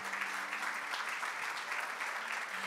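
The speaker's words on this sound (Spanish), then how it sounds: "un aplauso bien fuerte a nuestro Dios" Steady clapping from a church congregation fills the space, even and sustained throughout, with a faint low hum beneath.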